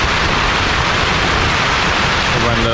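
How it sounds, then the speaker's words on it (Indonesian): Heavy rain pours down steadily in Ujung Kulon National Park, a loud, dense, continuous hiss that fills the space from start to finish without a break. "Dengan kondisi kedengeran kan suaranya, dengan kondisi hujan yang lumayan"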